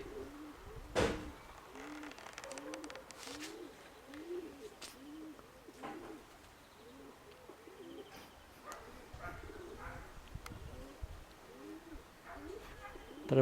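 Pigeons coo in repeated soft, throaty rolling calls close by, a steady overlapping chorus with occasional sharper flutters and bumps, while a person talks at moments.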